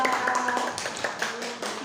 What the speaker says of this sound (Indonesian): tepuk tangan untuk Joshua.